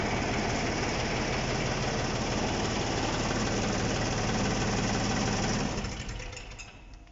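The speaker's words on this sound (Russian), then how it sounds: "Движок работает тихо," An Iseki compact tractor with reverse, power steering and four-wheel drive idles steadily, its engine putting out an even, close mechanical chugging for several seconds before the sound drops away near the end.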